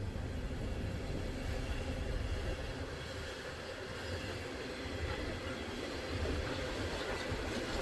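A coal-hauling freight train, locomotive 865, rolls past on a wintry day in Sandusky, Ohio, a steady broad rumble of wagons with faint rail clatter, continuous and fairly close, with no talk.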